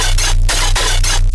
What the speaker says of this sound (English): it's adding this really, really nice crunch, this really, really nice sparkly character with the grid knob right here